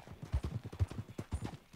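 An old, worn-down horse in the video game Red Dead Redemption II clip-clops along a path, its hoofbeats soft and steady in an uneven walking rhythm, with no talking.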